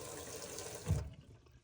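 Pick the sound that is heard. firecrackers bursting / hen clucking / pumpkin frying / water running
water running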